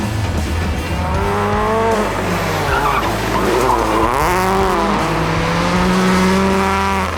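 A Subaru race car runs on a test track, its engine revving hard up and down while the tyres squeal and skid in long wavering whines, loud and close with no talking.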